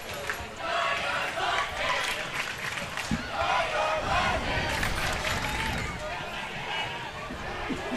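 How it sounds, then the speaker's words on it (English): Home football crowd at a high school night game, the Trojan cheer block, yelling and cheering in a steady broadband roar with scattered shouts throughout. "Hear the Trojan cheer block."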